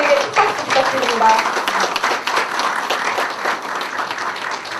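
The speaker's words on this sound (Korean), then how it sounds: "큰 박수 부탁드립니다" A crowd applauds steadily at a Korean election candidacy press conference, a dense patter of many hands clapping indoors that tapers slightly toward the end.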